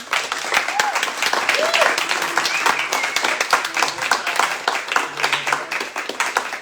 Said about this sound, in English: make one more round of applause for Maggie